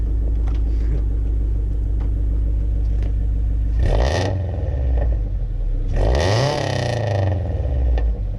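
A 1986 car's engine revs through a newly installed front exhaust pipe, a steady deep idle rumble broken by two loud, close throaty revs rising and falling, with no speech.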